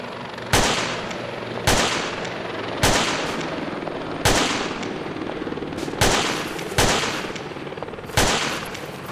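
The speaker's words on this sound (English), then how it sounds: "This is me shooting right now." Player gunfire in Arma 2 comes as loud, sharp single shots, seven in all, spaced about a second apart, each ringing out in a decaying echo, with no talking.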